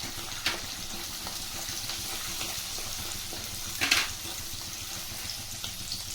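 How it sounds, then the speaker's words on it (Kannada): Chivda ingredients fry in hot oil for chuda mandakki, a steady low sizzle that runs throughout with a couple of brief sharper crackles or stirring clinks, close and fairly quiet. "ಇದು ಕೂಡ ಸ್ವಲ್ಪ ಚೆನ್ನಾಗಿ ಫ್ರೈ ಆಗಬೇಕು"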